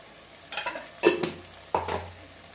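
Spices for a Kerala-style seer fish curry are stirred and sautéed in a pan: three quiet scraping strokes of a spoon over a soft sizzle.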